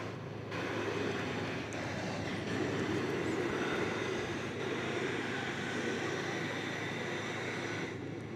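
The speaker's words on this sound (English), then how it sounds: "this classic MD-11, is going to Louisville, and it is on its way to the east side for takeoff" A classic MD-11 jet bound for Louisville taxis for takeoff at DFW Airport at night, its engines giving a steady, loud broadband roar that holds evenly throughout, with no voices.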